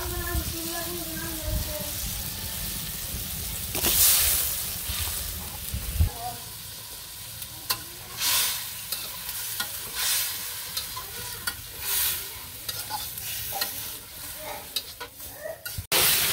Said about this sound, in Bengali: আমি এই যে তরকারিটা ছেড়ে দিব, আনাজটা দিয়ে দিব।